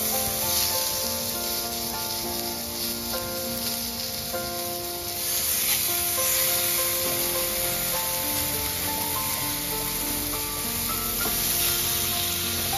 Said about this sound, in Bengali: এবার চিকেন স্টিকগুলোকে আমি এক এক করে প্যানের মধ্যে দিয়ে দেব।